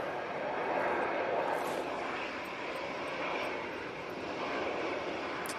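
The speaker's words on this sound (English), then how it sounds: "Got this EasyJet A320-200 going to Catania." An EasyJet Airbus A320-200 jet produces a steady, moderately loud engine roar that holds evenly throughout, heard from a distance.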